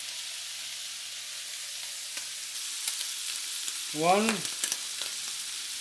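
Squid stir-frying in a pan with hoisin sauce, a steady close sizzle with a short louder burst of frying partway through, a single spoken word at the start.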